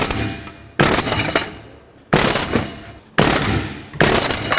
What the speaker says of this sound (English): give it a couple taps with the air hammer